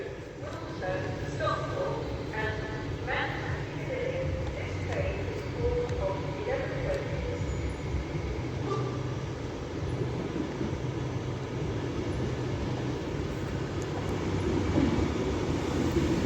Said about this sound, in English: And now coming in is the 1550 Avanti West Coast service to Manchester Piccadilly via Crewe.